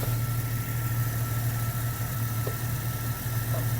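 Jeep Cherokee XJ engine idling at operating temperature, a steady low droning hum with a constant rumble, close and continuous with no talk.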